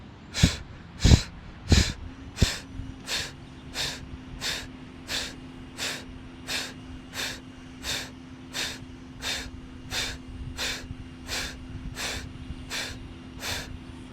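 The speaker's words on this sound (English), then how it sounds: "And breath of fire." Breath of fire yoga breathing: a run of rapid, evenly spaced forceful exhalations through the nose, about one and a half per second, close and steady, after a few louder bumps at the start.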